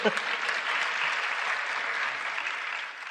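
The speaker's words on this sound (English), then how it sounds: "let the audience clap" An audience applauds steadily, a dense, sustained patter of many hands clapping at once that holds an even loudness throughout.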